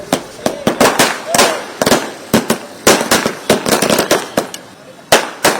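Firecrackers set off by BJP party workers in Kerala celebrating the swearing-in of the Modi government: a rapid, irregular string of loud, sharp bangs, close by and dense, with brief gaps between bursts.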